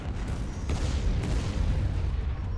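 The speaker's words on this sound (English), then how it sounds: "Proton bombs away." Proton bombs explode during a bombing run in a Star Wars video game, a continuous, dense rumble of overlapping booms and blasts filling the whole stretch at steady loudness.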